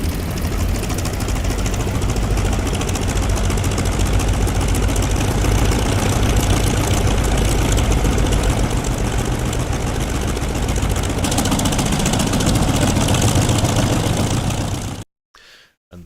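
La-7 fighter plane's radial piston engine idles after start-up in DCS, a loud, rough, continuous low rumble with knocking pulses that runs steadily before cutting out abruptly near the end.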